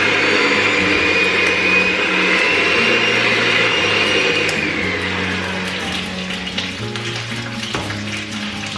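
An electric beater whirs steadily and loudly through a brunch batter mixture for the whole stretch, its motor hum constant with slight shifts in pitch as it works, no voices over it.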